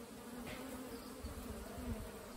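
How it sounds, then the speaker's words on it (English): A steady, dense drone of many honey bees buzzing together inside an apiary fills the air, a low hum with no voices. "You can hear the sound of hard-working bees."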